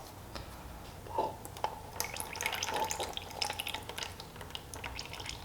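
Leftover engine oil drips from the oil filter housing of a Honda CRF450L into a drain pan, a scattered series of small close wet taps over a quiet background.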